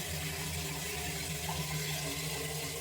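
Steady running water, a constant broadband rush like a tap or pump outflow filling a container, continuous throughout with no talking.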